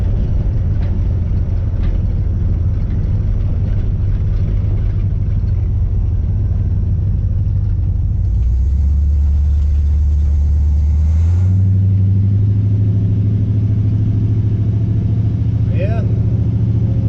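Deep steady rumble of a 1980 Chevy Camaro ex-racecar turned custom street car with a new radiator, running and driving, the engine note shifting lower and then rising, close and loud under talk.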